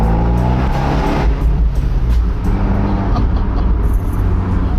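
An Abarth 124 Spider convertible drives with the top down, its engine droning loud and close with a rising, shifting tone and steady road and wind roar.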